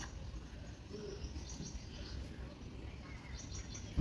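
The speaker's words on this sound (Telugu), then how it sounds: "అరుపు కూడా పావురంలాగే ఉంటుంది" Soft pigeon coos from a pigeon nesting in a house repeat at a moderate distance over a steady background hum, with a few faint chirps mixed in.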